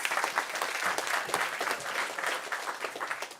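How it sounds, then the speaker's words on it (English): Sustained applause from an audience at an on-stage talk event as a guest leaves the stage, many hands clapping steadily before tapering off at the end. "Give him an applause."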